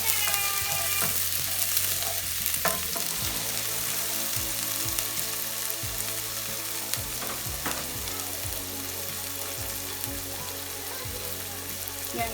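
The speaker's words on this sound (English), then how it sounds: "I'm just going to stir it up." Vegetables with onion frying in a pot as a spoon stirs them, a steady bright sizzle with scraping knocks from the spoon at irregular intervals, close and alone.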